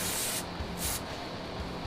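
Aerosol B12 cleaner sprayed onto oil filter parts of a Polaris Outlaw 90 ATV, close and loud bursts of hissing spray in two quick pulses over steady background noise.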